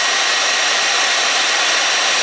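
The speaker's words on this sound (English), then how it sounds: "The hair dryer is still running." A hair dryer blowing hot air runs steadily, a loud, even broadband whoosh with no breaks, close by and alone.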